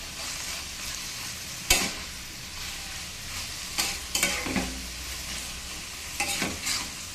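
Ash gourd leaf greens sizzle in a frying pan while a utensil stirs them, giving a soft continuous fry punctuated by several sharp scraping clatters.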